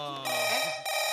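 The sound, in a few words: telephone ringing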